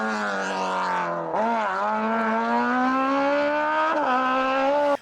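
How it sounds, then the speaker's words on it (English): A Renault Alpine A110 fitted with a swapped Kawasaki motorcycle engine screams at high revs, one sustained high-pitched wail that climbs steadily, briefly dips when shifting around the one- and four-second marks, then keeps rising, loud and close. "That Kawasaki engine screams."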